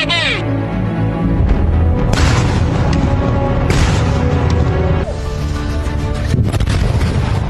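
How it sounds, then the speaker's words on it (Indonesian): Loud, deep booms from detonating expired military ammunition burst out one after another amid a dense, chaotic roar of noise, with faint voices mixed in. "Ledakan terjadi saat pemusnahan amunisi kadaluarsa."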